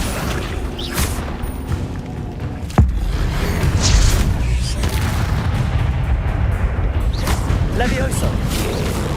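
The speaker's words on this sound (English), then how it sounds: "Accio." Accio spell effects in Hogwarts Legacy, part of a loud game battle: rumbling booms and whooshes, one sharp crack partway through, then dense continuous crashing, with speech-like sounds mixed in.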